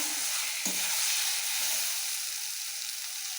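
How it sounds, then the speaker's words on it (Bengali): Pasted yardlong beans (borboti) hit a pan of fried onions and sizzle in a loud, steady, close hiss, with a faint stirring scrape early on. "এবার পেস্ট করা বটবটিগুলো দিয়ে দিলাম"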